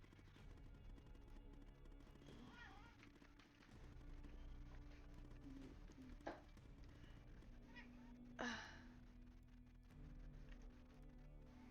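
A house cat meows for attention, with short cries scattered over a quiet room alongside game sounds, including a couple of sharp bangs, all faint and close.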